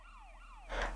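Ambulance siren from the video game GTA Chinatown Wars, a rising and falling wail heard alone at moderate level, followed near the end by a louder burst of broad noise.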